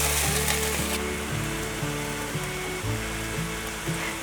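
Red mushrooms are stir-fried in a pan for a vegan home dish, making a dense, steady sizzle close up with faint scraping stirs beneath, with no voices.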